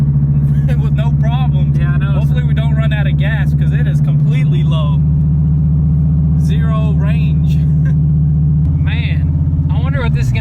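A steady, loud low engine rumble from a 2014 Dodge Viper TA fills the whole stretch while a person talks over it almost continuously.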